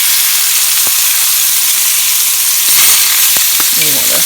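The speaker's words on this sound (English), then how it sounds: "They're searing on the other side." Pork chops sear in a hot pan, giving a loud, dense, steady sizzle with crackling pops and a brief scrape near the end.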